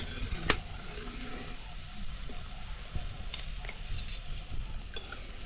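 Shankarpali dough pieces frying in hot oil make a steady close sizzle and bubbling, broken by a few sharp metallic clinks of a utensil stirring in the pan.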